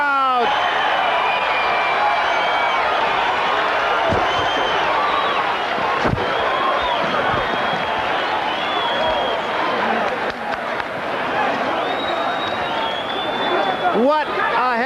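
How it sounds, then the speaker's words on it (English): Boxing arena crowd at a 1985 IBF heavyweight championship fight, Holmes versus Spinks, roaring at the final bell: a dense, loud, sustained wall of cheering and shouting that holds steady for nearly fifteen seconds, with scattered claps and yells. "Listen to the crowd."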